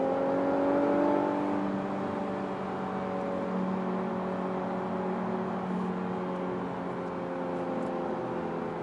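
Infiniti Q50 S Red Sport engine while driving at about 60, a steady mid-level drone with slight rising pitch early on, under road and cabin noise.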